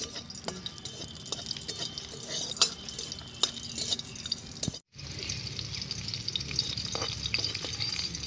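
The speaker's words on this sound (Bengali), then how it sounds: "শুকনো লঙ্কা দুটো কাঁচা লঙ্কাও দিয়ে দিলাম।" Dried red and green chillies frying in a little oil, a close, steady crackling sizzle with occasional spatula stirs, a brief silent cut, then louder sizzling.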